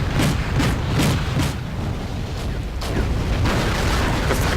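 Explosions and booms as Panzer tanks are destroyed in a war strategy game, a dense, continuous rumble with several sharp blasts, loud and close, with no voice over it.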